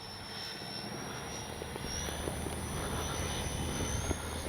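An FMS 70mm A-10 Thunderbolt II radio-controlled jet flies during its maiden flight, producing a constant distant whine and rushing roar that holds steady throughout, with a thin high tone drifting slightly and no talk.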